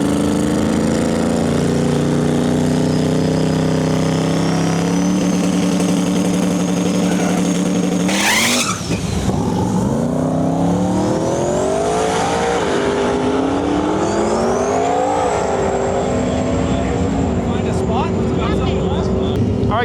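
A Limited Street drag racing car, the color change S10, roars at high revs near the track, its engine pitch climbing through gear shifts after a sharp burst, loud and sustained with an announcer talking over it.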